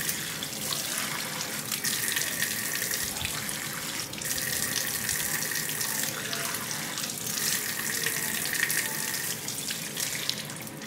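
A tap runs during bathroom cleaning, pouring water in a continuous rushing splash with gentle shifts in intensity, close and steady, with no talking.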